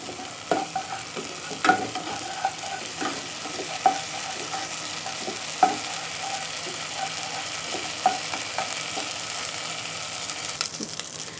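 Garlic ginger paste fries steadily in a pan in the background while a spoon stirs and scrapes, with occasional sharper clinks standing out, no voices.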